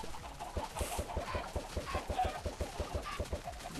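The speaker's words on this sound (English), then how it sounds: "if you hit the other chickens, it seems like the eggs do more in the line of actually creating more" Chickens in the video game Minecraft cluck in a rapid, steady stream of short close clucks over a busy background hum, with no talking.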